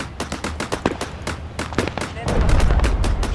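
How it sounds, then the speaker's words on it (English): Artillery and gunfire in a WWII-style battlefield game, rapid sharp bursts crackling early, then a heavy rumbling barrage swelling toward the end, loud and close. "the artillery is now coming down on the right flank"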